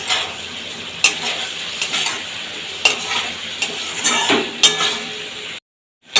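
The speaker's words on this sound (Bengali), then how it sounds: "এই সময় দিয়ে দেব ভেজে রাখা মাছ আর আলুটা একসাথে মশলার সাথে এটাকে খুব ভালোভাবে কষাবো" Fried fish and potato are stirred into sizzling spice paste in a pan, a steady fry punctuated by several sharp scraping and clanking strokes of a spatula, close and fairly loud, ending in a brief silence.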